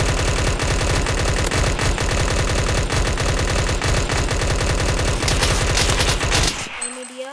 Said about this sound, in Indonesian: Oke, selanjutnya adalah M41 cuy. Ini dia, ada 30 peluru. Dan untuk menembaknya seperti ini.